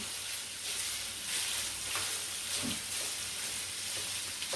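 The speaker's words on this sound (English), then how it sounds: "See, I'm flipping sausage out." Sausage sizzles steadily in a pan for a ravioli casserole, with a few soft scrapes and knocks as the pieces are flipped, no voices over the crackling.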